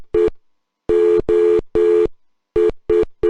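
Morse code is sent as a pure electronic tone in short and longer beeps. The clear, loud bursts are separated by silent gaps in an uneven on-off rhythm.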